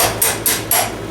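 Three sharp metallic strikes from an improvised hammering tool knocking parts of a grain grinder together, evenly spaced, loud and close with ringing decay.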